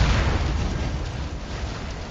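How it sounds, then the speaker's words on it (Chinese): A rocket engine in a test stand suffers a sequence of explosions after running abnormally for over 180 seconds, a loud, dense roar of overlapping booms and rumbling bursts with no pause. "然后接着就是一系列的爆炸"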